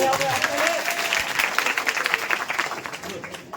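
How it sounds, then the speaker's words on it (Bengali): Students at a karate self-defence demonstration clap loudly together, a dense burst of applause with voices mixed in that tapers off near the end. "হাততালি দাও জোরে একটা সবাই"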